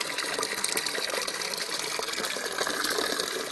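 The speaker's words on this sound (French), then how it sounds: "Et là, ça va vidanger le liquide de la glace." Windshield washer fluid draining out of a Renault Mégane 2 as a steady hissing, gushing liquid flow, continuous and close with no talk.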